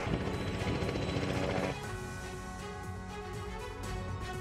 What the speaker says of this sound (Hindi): कई एजेंसियों के हेलीकॉप्टर लगाए गए हैं।